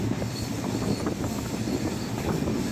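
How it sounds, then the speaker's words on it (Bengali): An express passenger train in Dhaka, Bangladesh rumbles continuously along the tracks, with a steady low roar and faint rhythmic clatter of wheels, heard from inside or close by. "এখান থেকে হচ্ছে আমাদের ট্রেন ছুটে যাচ্ছে"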